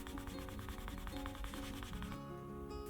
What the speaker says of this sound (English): let's bevel the edges and give them a quick burnish using toconol as a burnishing agent